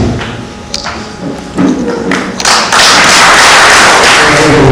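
Guests clap at a Rwandan wedding introduction ceremony, starting as scattered taps and thumps and swelling into loud, dense, sustained applause by the end.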